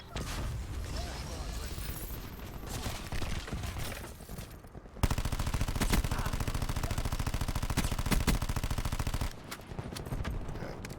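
Sustained automatic gunfire in Call of Duty Black Ops 4, a long, rapid, evenly spaced stream of loud shots following a stretch of mixed game noise and voices.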